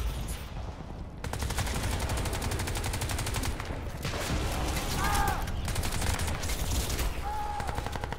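Rapid gunfire rattles in a firefight in the video game Crysis 2, a loud, continuous stream of shots lasting several seconds, with faint voices in the background.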